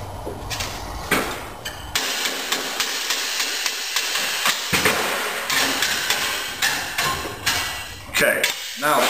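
A hammer taps lightly on steel tabs while seating the parts of a tab-and-slot welding table, giving a series of sharp, fairly evenly spaced close knocks against faint shop background.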